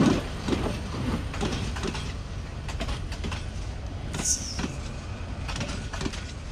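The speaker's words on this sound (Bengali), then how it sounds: "দেখেন ট্রেনের অবস্থা।" Train passing close by near a railway station, a steady rumbling roar with rhythmic clatter of cars and a brief metallic squeal, moderately loud and continuous, with faint voices in the background.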